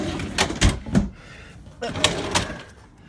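Wooden cabinet drawers slide open and shut one after another, giving several knocking thuds and scraping runs, close and fairly loud, with brief pauses between each drawer.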